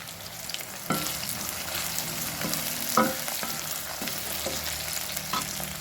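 Tomato and onion with salt sizzle and fry in a pan, a continuous crackling hiss broken by several sharp clicks and scrapes of stirring, close and fairly loud, with no talking.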